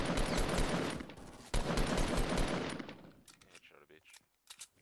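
Fortnite Battle Royale gunfire comes in dense bursts of loud rapid shots, first a long volley, then a second sustained spray, then tapering into a few scattered single shots and clinks.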